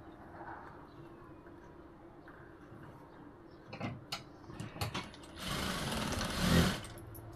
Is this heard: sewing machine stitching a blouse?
yes